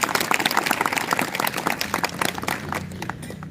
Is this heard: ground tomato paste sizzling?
no